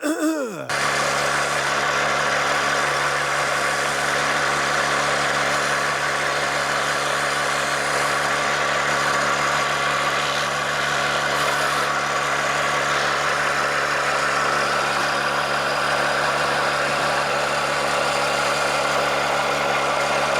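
Smog pump driven by pulleys blowing air into a waste oil burner, a steady loud mechanical drone and whir with a constant hum that runs unbroken throughout, starting after a brief opening thump.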